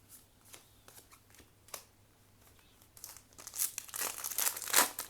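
Foil wrapper of a Japanese trading card booster pack being slowly torn open by hand, a few soft crinkles at first, then louder close crackling and tearing toward the end.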